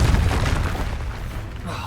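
Confringo blasting curse from the Hogwarts Legacy video game, a deep, rumbling boom that hits hard at the start and rolls off over about two seconds, with a voice speaking over it.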